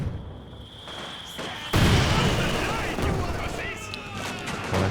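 Machine gun fire and battle noise from Company of Heroes 2, a dense crackling rattle of shots over a rumbling backdrop, with a sudden louder burst of fire midway that stays intense.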